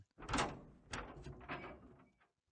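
A door opens in the ChäoS;HEAd visual novel game, a close, clear sequence of handle and hinge clunks and a short slide lasting about two seconds, then silence.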